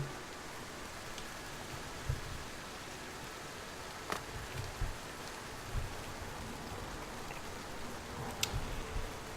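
Steady, soft rain falls in the video game Morrowind as a faint, even hiss with occasional louder drop impacts, with no voices.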